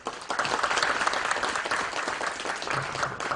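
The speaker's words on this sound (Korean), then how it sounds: "다시 한번 뜨거운 박수를 올려드리겠습니다" A church congregation at an Easter service claps warmly for three professors, a dense, even round of applause lasting a few seconds.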